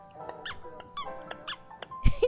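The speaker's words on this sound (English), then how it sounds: "It squeaks because it's an angry frog" A plush wizard frog toy squeezed repeatedly, giving a string of sharp rubbery squeaks in an uneven rhythm, close and fairly loud, ending in a bump against the toy.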